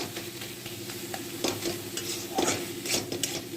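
Hilsa fish pieces, salted, fry lightly in a pan with a steady close sizzle, stirring and occasional clinks of a utensil against the pan.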